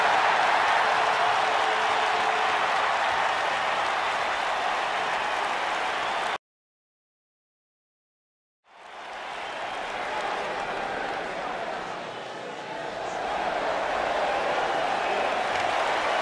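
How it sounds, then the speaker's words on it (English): Crowd cheering and applause from a WWE 2K19 wrestling video game arena after a match, a steady broad roar that cuts out briefly before swelling back up. "And the crowd here tonight still in awe over that great match."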